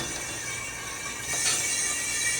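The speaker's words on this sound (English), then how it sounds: "Well, I can hear CO2 moving into the tank." CO2 gas flowing from a Presh-R-Matic adapter into a Coleman lantern tank, a faint steady hiss that grows brighter and louder partway through, heard up close without voices.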